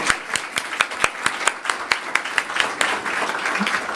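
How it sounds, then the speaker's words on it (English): A small audience at a diplomatic award ceremony claps for an honoured foreign delegate, sparse distinct hand claps close by over a lighter background of applause, thinning toward the end. "please join me in a big round of applause"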